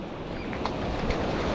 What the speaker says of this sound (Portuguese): Mais um dia de altas ondas